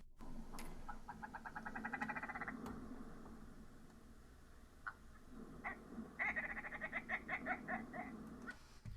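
A recorded call of a US state bird plays as two bursts of rapid, evenly pulsed harmonic notes separated by a quieter gap, faint and alone with no talking.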